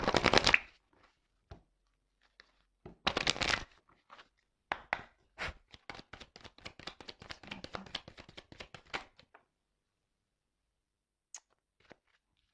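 Tarot cards being shuffled in quick riffling bursts, a burst at the start, another around three seconds, then a longer run of rapid flicks and taps before it falls quiet, close and moderately loud with no talk.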